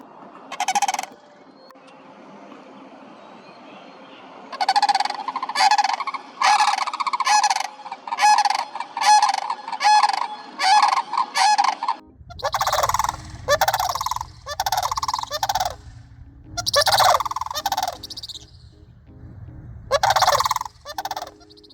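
Loud, rattling bugling calls of sandhill cranes repeat in rapid bursts, two birds calling together in a long series with brief pauses between phrases.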